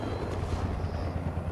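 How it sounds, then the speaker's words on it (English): A helicopter in the video game Fortnite, a steady rotor chop and whir heard briefly at moderate level without talking. "Oh, I hear a helicopter."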